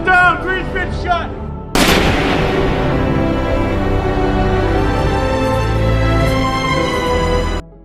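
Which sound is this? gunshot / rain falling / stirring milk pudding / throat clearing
gunshot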